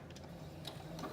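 A sewing machine runs a 5/8 inch shoulder seam on a wrap dress, giving off a quiet, fast mechanical ticking and whir that stays low and even for about a second.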